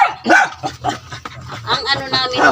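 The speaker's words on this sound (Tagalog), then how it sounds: "Tingnan mo lang Yung aso." A dog barks and yips in short, loud bursts close by at a remote rural home, with a person talking over it.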